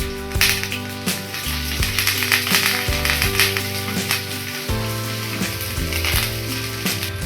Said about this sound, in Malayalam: ചൂടായ കടുകിലേക്ക് ഒരു 3 ചെറിയ ഉള്ളി വട്ടത്തിൽ അരിഞ്ഞത്, 2 വറ്റൽമുളക്, കുറച്ച് കറിവേപ്പില, ഇത്രയും ചേർത്ത് നമുക്ക് നന്നായിട്ടൊന്ന് മൂപ്പിച്ചെടുക്കാം.